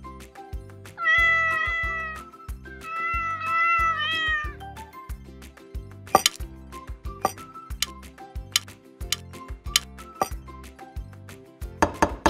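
A cat meows twice in drawn-out, wavering cries near the start, set over a steady rhythmic music bed with clinks and taps that carry on afterward.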